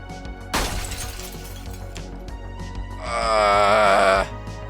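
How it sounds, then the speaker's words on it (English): In Project Zomboid, a car window is smashed with a bare elbow: one sharp, loud burst of breaking glass, then a strained, pained groan a few seconds later. "I inattentively smashed in a car's window with my bare elbow"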